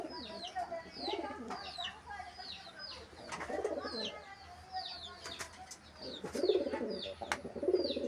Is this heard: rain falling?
no